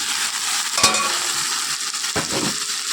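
Meat with chili powder frying in a pan, a bright continuous sizzle up close, punctuated by a couple of sharp clinks and scrapes as a spoon stirs it around.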